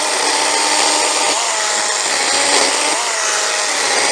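A Stihl GTA 40 small battery-powered pruning saw runs continuously at a steady high-pitched whine, loud and close, with no talking.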